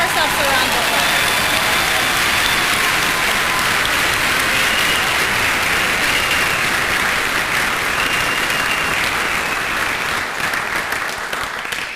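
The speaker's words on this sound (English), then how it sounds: "Let's give ourselves a round of applause." Loud, dense applause from a graduation crowd at a class of 2023 commencement, a continuous wash of clapping sustained throughout.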